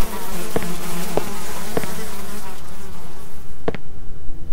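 A continuous video game insect buzz drones steadily, like a fly hovering close by, with a few faint clicks scattered over it.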